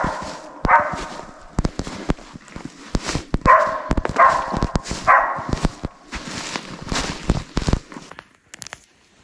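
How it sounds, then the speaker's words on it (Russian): A hunting dog in the Siberian taiga barks in repeated loud, sharp bursts, close by in quiet forest, apparently at a treed squirrel. "начал лаять"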